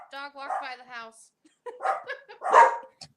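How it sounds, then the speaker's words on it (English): A dog barks a few times as it is walked past a house, short yelping barks in two close bursts, fairly near and alone. "sorry, dog walked by the house."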